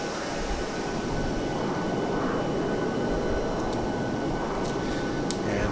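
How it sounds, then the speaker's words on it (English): An aircraft passes close by with a steady, loud, continuous engine roar that stays level throughout, with no talking. "Getting noisy over here because there's an aircraft right below us."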